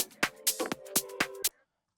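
A drum groove for an organic melodic house track plays back in Logic, with sharp evenly spaced hits and a tonal percussive line over about a second and a half, then cuts to silence.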